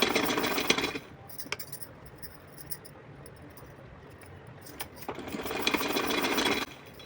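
A sewing machine runs stitching along the edge of a fabric strip for a doll's outfit, bursts of steady whirring at the start and end with a quieter pause between.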